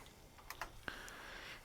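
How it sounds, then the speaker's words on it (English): A computer keyboard during an OS/2 2.0 hard drive setup, with a few light key clicks followed by one sharper keystroke, close and quiet in a hushed room. "And I'm pressing enter on the keyboard after I've ejected the diskettes."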